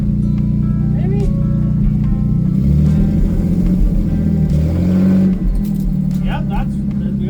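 A DeSoto with fluid drive rolls in forward gear, its engine giving a loud, steady low rumble that swells slightly around the midpoint, with a person speaking over it.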